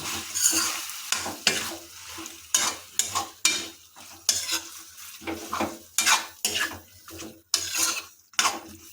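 Chicken curry with green chillies and winter vegetables is stirred in a pot, with a rhythmic series of about a dozen close scraping spoon strokes over a soft, wet sizzle.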